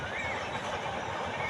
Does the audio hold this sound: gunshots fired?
no